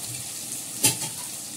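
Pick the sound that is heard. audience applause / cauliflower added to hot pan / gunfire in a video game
cauliflower added to hot pan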